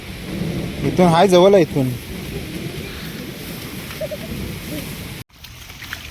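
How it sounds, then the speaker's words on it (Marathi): Heavy rain falls steadily near a village forest path during a thunderstorm, a dense wash of drops close around while someone speaks briefly over it and other voices murmur. "मस्त की पाणी पाऊस पडतोय."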